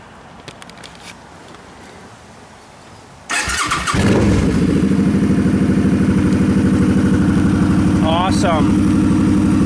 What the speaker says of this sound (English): I have to pull the clutch and then start it.